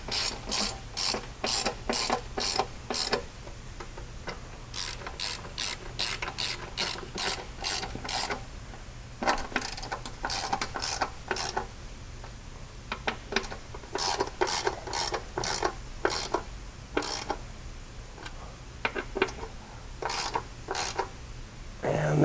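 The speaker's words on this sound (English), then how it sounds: "we can tighten the rear bolts up here" Ratchet tightening the rear bolts on a 2020 Polaris General, with fast repeated clicking strokes in steady bursts and short pauses between them, close and clear with no talking.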